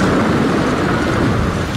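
Thunder in the video game Otogirisou, a loud, dense rolling crash with a rain-like roar that fills the whole moment, no voices.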